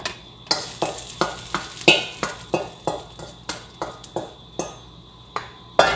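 Rice goes into a hot, sizzling pan while kabsa cooks, followed by a steady run of sharp scraping stirs and clinks about twice a second over continuous frying hiss. Close and fairly loud, with no talking.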